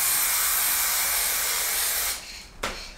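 Antique gold spray paint hisses from an aerosol can onto a picture frame in a steady, close spray that cuts off near the end, followed by one short extra burst.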